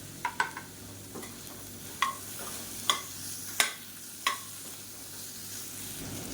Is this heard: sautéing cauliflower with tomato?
yes